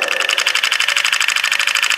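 A throttle body motor on a test bench runs on 4 volts, giving a fast, even buzzing whir with a rapid pulsing rhythm, close and fairly loud with no talk.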